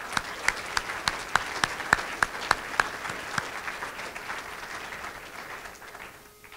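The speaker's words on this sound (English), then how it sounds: "A round of applause for our." Applause at a museum reopening gala, with a handful of distinct, sharp, evenly spaced claps standing out over softer clapping before it thins and fades toward the end.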